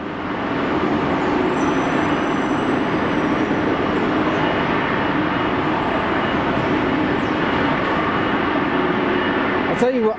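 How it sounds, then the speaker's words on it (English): An aircraft auxiliary power unit runs steadily at Manchester Airport, a loud continuous drone with a thin high whine that holds unchanged throughout. "Virgin's got the APU running."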